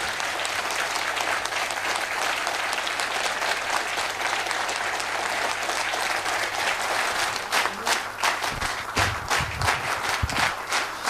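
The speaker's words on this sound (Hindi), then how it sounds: "जोरदार तालियों के बीच में स्वागत करते हैं चेतन सर का।" Sustained audience applause welcoming a speaker to a training session, dense and steady throughout with a low hum underneath and some louder individual claps near the end.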